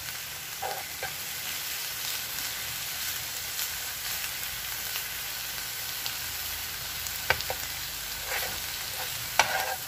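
Tilapia simmering in coconut milk in a pan makes a steady, close sizzle and bubbling hiss throughout, with a few faint clinks of stirring and no talk.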